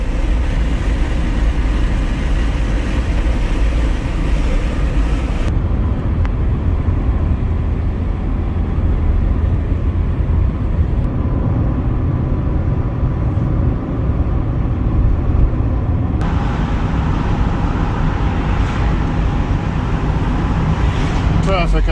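An ND Mazda Miata cruises on roads in Bavaria and Austria, heard from inside as a steady loud rumble of engine and tyre noise with wind roar that shifts slightly in tone as the car drives on.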